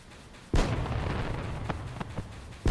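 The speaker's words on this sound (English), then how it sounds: "And there go the fireworks again." Fireworks exploding in the Final Fantasy XI video game, a heavy booming burst followed by a sustained crackling rumble and a few sharper pops, loud and close.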